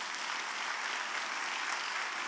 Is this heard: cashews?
no